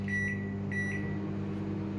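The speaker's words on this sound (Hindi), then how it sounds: "माइक्रोवेव करेंगे स्टार्ट," A microwave oven runs with a steady low hum and a faint high whine, heating a bowl of tea. The tone is close and continuous, with no talking.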